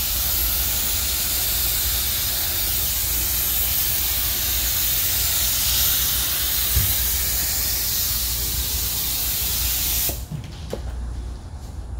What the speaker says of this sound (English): I am going to start spraying it a little bit sooner